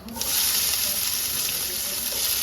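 Onions sizzling in hot oil with cumin seeds while making aloo kurma: a steady, close, continuous frying hiss with no talk.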